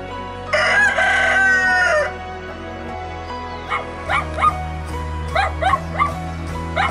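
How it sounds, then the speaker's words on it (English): A rooster lets out one loud, close crow right beside a tent in Colombia. A run of short, sharp dog barks follows in quick clusters. "the big chicken comes and yells next to your tent"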